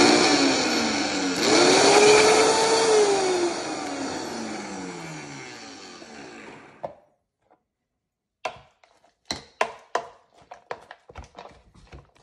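A kitchen blender whirs loudly for several seconds as it purees white beans with water and olive oil, its pitch rising then sliding down before cutting off, followed by a scatter of sharp clicks and taps.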